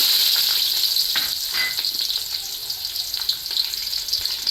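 About fifteen small onions frying in ghee for ghee rice, a loud, close, hissing sizzle that stays steady and bright, softening slightly as it goes on.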